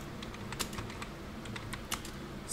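Commands typed on a computer keyboard to fix a Windows 10 update error, heard as a steady run of quick, close keystrokes with a few louder taps, set over a low constant hum and with no talking.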